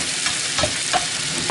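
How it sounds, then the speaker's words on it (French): Beef, onions and mushrooms sizzling loudly in a frying pan, with a steady close hiss and a few brief scraping stirs, no voices. "On va faire tourner la viande dans l'autre côté, comme ça, avec les oignons."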